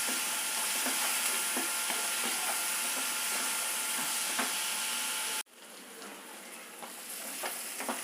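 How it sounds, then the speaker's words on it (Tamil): Onions sauté with a little salt in a pan while a sambar-style lunch is cooked. A steady, close, loud sizzle with light stirring taps drops suddenly to a softer, quieter frying hiss partway through. "இந்த வெங்காயம் வதங்கிறது"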